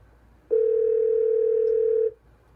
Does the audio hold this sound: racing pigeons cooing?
no